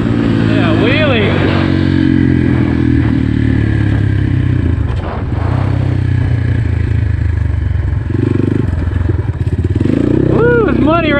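GPX FSE 250 dirt bike engine, a 2021.5 model, revving loudly and continuously through a wheelie on a muddy trail, with a steady roar that rises near the end and voices talking over it.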